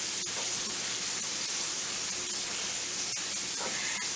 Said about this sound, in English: that is it as far as frying these pork chops